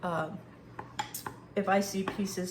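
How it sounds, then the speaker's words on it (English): A spoon stirs melted peanut butter and chocolate in a pan, giving a few soft clinks and scrapes under a person talking. "So I'm going to stir this up"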